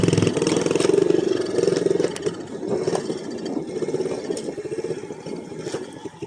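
A dirt bike engine running in the woods while low on gas, with a steady, loud motor drone and sputtering, uneven pulses close by.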